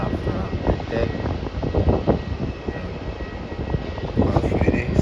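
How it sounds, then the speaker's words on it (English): Aircraft engine noise at Melbourne Airport from a plane arriving from the Gold Coast, a steady broadband roar throughout with some louder swells, with people talking over it. "flight which is coming in is a flight from Gold Coast"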